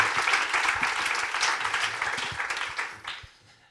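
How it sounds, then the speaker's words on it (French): Audience applause at a start-up pitch competition, a sustained dense clapping from a crowd that holds steady and then tapers off toward the end. "Vous pouvez applaudir Kenza."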